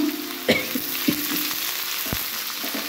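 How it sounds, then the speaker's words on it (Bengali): Chopped onion and garlic hitting a pan already holding cumin, dried red chilli and sugar, frying loudly and close with a bright continuous sizzle and a few stirring knocks. There is no speech. "এবার দিয়ে দেবো পেঁয়াজ আর রসুন কুচি।"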